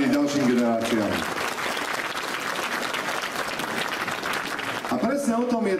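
Audience applause at a Slovak heligónka accordion gathering, a sustained burst of clapping from a crowd, with talking heard over the start and end.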